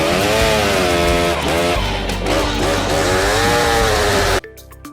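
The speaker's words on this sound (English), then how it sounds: "The Chainsaw WG322E is a cordless chainsaw that offers great value with automatic tensioning and automatic lubrication." WG322E cordless chainsaw cutting wood; a loud, close, continuous motor whine that rises and falls in pitch as the chain bites, then cuts off abruptly near the end, with no talking.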